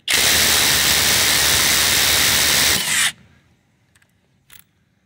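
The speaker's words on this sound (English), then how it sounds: "Just watch the oil spraying." Oil sprays from a car wheel while an impact driver removes its lug nuts, a loud steady hissing rush lasting about three seconds that cuts off abruptly, followed by a few faint clicks.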